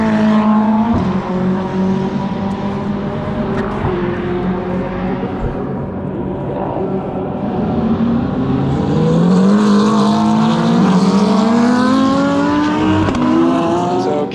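GT Open race cars roar through the final chicane at Spa during qualifying, engines braking, downshifting and then revving hard as they accelerate away, loud and continuous with rising pitch sweeps and no talk.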